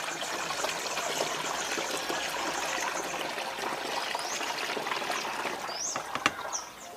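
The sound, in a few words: pouring rice-washing water into a container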